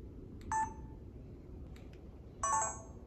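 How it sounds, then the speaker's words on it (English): Two short electronic beeps from a Sony A6600 camera as recording starts and stops, each a bright high chirp over a low background hum, about two seconds apart and fairly faint. "turning off the annoying sounds the camera makes when you like hit record and hit stop record"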